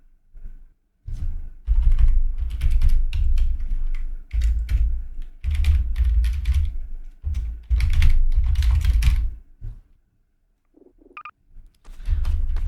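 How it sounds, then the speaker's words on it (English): Bursts of typing on a computer keyboard, close and fairly loud, with clustered key clatter broken by short pauses and a brief quiet gap near the end. "I need to type that in"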